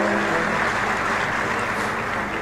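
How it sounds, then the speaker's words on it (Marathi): A large public gathering applauds to welcome Chief Minister Devendra Fadnavis, a loud, dense and steady burst of clapping that fills the short stretch without a break. "एकदा जोरदार आपण टाळ्या वाजवून त्यांचं पुन्हा एकदा स्वागत करूया"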